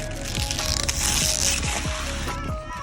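A ratchet wrench tightens the tail lamp bolts on a 2017 Nissan Titan XD, producing a close, steady run of quick mechanical clicks in several short bursts with no talking.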